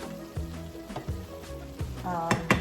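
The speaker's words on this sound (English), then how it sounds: "So this is going to probably simmer about an hour." Country style ribs with cabbage bubbling and sizzling in a pot, a steady close crackle with a few scrapes of stirring and faint music-like tones behind, no talking.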